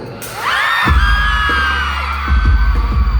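Screaming concert crowd at a show, loud shrill cheers swelling over heavy booming bass hits and pulsing music, with whoops and yells rising and falling across the crowd.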